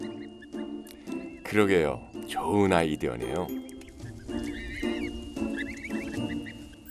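Geese honk in a burst of harsh, nasal calls at a backyard goose house in England, with people talking nearby over the honks.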